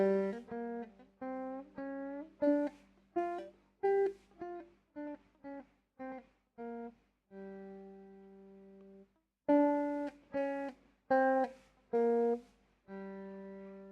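Twangy plucked notes on a three-string cigar box guitar, climbing and descending a blues scale with a flat fifth one at a time, some held longer, with a brief pause midway.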